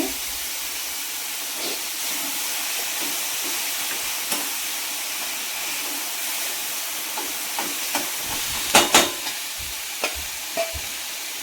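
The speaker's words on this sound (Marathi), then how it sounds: "आपण याची चांगली वाफ काढू" Moth beans cook with salt in a hot pan, giving a steady, close hiss of steam and sizzle with occasional scraping stirs and clicks.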